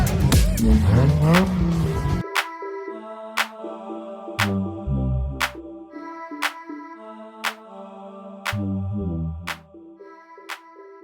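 Cars skidding on a skid pan with squealing tyres and revving engines, loud and close at first, then repeated sharp tyre squeals and engine bursts in a rhythmic pattern.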